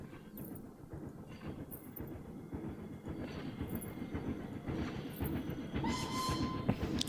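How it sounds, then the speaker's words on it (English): A train runs along the rails in the video game Planet Coaster, a steady clickety-clack rumble that builds slightly louder, with brief high whistle-like tones near the end. "Hello, train."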